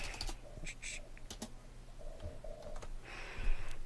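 Keys clatter on a computer keyboard in quick irregular bursts of taps, close and fairly clear, with brief pauses between runs.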